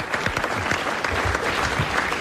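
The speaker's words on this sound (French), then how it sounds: "on applaudit quand même et on lui dit à demain" A studio audience on a French TV game show applauds in a full, sustained round of clapping that stays loud and even from start to finish.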